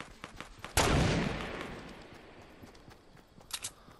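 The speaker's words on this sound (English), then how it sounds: "Oh, I hear gunshots." Gunfire in the Fortnite video game: a single loud, sharp shot rings out and decays over a second or so, followed later by a couple of fainter, quick shots in the distance.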